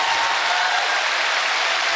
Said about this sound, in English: they just heard your cheering